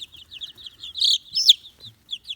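Chickens in a coop making high, scratchy clucks and chirpy calls, several birds close by with a couple of louder squawks among softer chatter, no talking.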